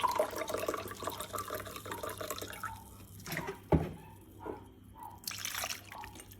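Vinegar trickles and splashes into a glass, a soft uneven pour with a few drips and clinks, fairly close.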